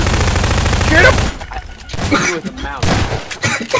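Rapid automatic gunfire in the video game Garry's Mod, a loud dense burst followed by scattered shots, with players shouting and talking over it.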